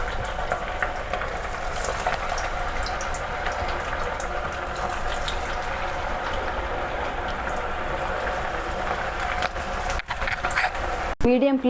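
Maddur vada, round flattened fritters, frying in hot oil over a medium flame, giving a steady bubbling sizzle that runs throughout, with a few clatters near the end.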